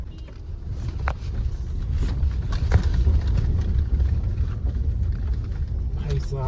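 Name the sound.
Tata Safari car driving on a bad off-road track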